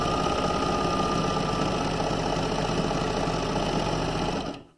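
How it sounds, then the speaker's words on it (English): A serger sewing machine stitches a seam and trims the fabric edge, a loud, fast, even mechanical whirring buzz that runs steadily before winding down abruptly at the end, with no voices. "as you are creating a serge because it actually cuts the edge of the fabric off as you are sewing"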